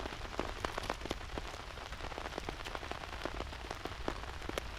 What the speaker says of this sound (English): If you can hear me over the rain noises